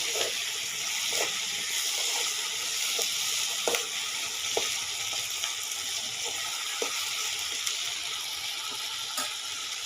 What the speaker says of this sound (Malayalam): നല്ലോണം ഒന്ന് വഴലട്ടെ.